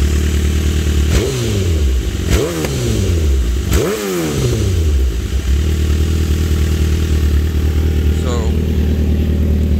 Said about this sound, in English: show you guys with the racing coil packs where she's at idling